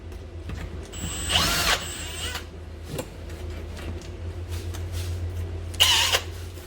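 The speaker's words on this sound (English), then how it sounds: "now I'm just going to go through, pre-drill my holes" A power drill pre-drilling holes through a rubber door seal whirs in two short bursts, near and loud, with a brief click between them over a low steady background hum.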